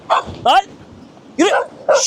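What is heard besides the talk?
dog barking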